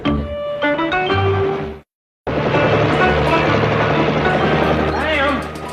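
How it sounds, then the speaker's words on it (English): A military helicopter drones continuously overhead, loud and close, with its low rotor rumble cutting out briefly before returning at full strength. "Howard, that's one of those military helicopters."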